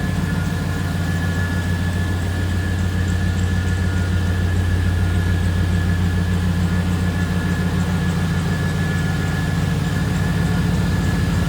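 The V8 engine of a 1994 GMC Sierra conversion truck idles steadily, a deep continuous rumble with a faint high whine, close and unchanging throughout.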